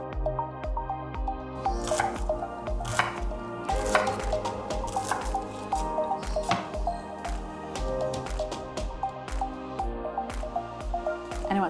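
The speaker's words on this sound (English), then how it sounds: "Now we want to go in with some shallots. Okay, so this just needs to be roughly chopped." Shallots are roughly chopped with a knife on a board: a steady run of quick, crisp cuts, close and fairly distinct, repeating in an uneven rhythm over soft background music.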